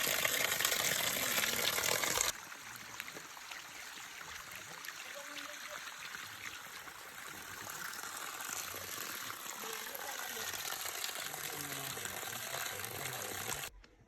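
Water rushes and gushes steadily outdoors at a hillside spring in the countryside, a loud burst at first then a softer continuous flow, with faint voices in the background.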